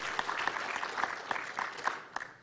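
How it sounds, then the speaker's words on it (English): Scattered audience applause in a conference hall at a hacker convention, a moderate crowd clapping with sharp individual claps standing out over a continuous patter. "Give the man a round of applause while he gets his mouse pad and"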